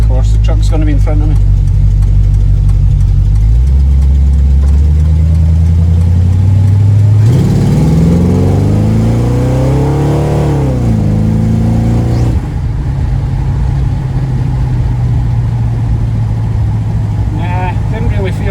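Car engine idling then revving while driving on a small road, a loud close low drone that climbs in pitch during a burst of acceleration and settles back, with someone talking.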